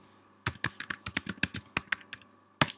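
Keystrokes on a computer keyboard while a password is entered at a login screen: about a dozen crisp, close clicks in a quick uneven run, a short pause, then one final louder press like Enter.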